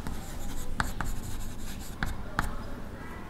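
A pen scratches across paper in short strokes, with a few sharper taps as it touches down, quiet and close in a calm room.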